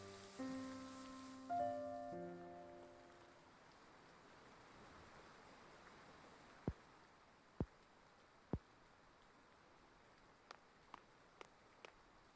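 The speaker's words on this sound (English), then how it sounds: "Night is falling and the rain has yet to let up." Steady rain falling in the video game Triangle Strategy, a soft, even hiss that runs under brief musical tones at the start, with a few sharp faint ticks and taps later on.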